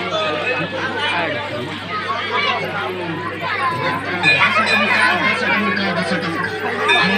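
A dense crowd at a Shiva temple night fair in Badadhanadi, Balasore, a steady hubbub of many overlapping voices with a constant low hum underneath.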